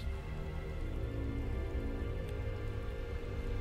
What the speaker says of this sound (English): It's raining on him.